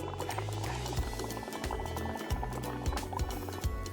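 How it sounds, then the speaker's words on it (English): Someone blows through a straw into a cup of liquid, making a run of bubbling gurgles and pops in uneven bursts, close and moderately loud. "I'm going to take a nice deep breath in and then blow into my bubbles."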